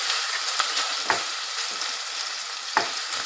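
Ground beef keema sizzles hard in a hot pan, a bright continuous crackle broken by a few sharp scraping stirs of a spoon, close and loud with no voices.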